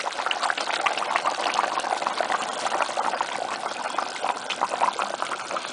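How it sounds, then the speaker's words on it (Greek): Cornstarch and water mixture strained through a sieve for a traditional Greek tomato meat stew sauce, giving a steady close trickling, liquid-pouring wash with no pauses. "Θα πάρουμε μία σίτα και θα σουρώσουμε το νησιστέ με το νερό μας."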